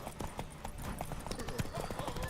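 Horse hooves clip-clopping in The Witcher III video game, a quick uneven run of hoofbeats mixed with the game's ambient sound and voices talking over it.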